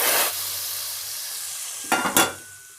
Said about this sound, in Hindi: और अब मैं दाल में ये तड़का डाल देती हूँ